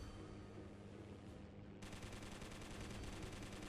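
Fighter plane machine guns fire in 303 Squadron: Battle of Britain, a steady dense rattle of rapid shots over a constant engine drone, growing sharper and busier partway through.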